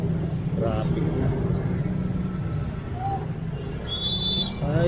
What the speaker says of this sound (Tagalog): sobrang traffic talaga dito kasi yung mga jeep din to